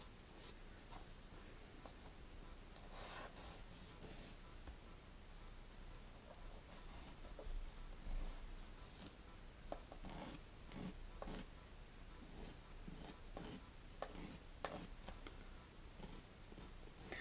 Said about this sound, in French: Il faut vraiment limer sur les côtés.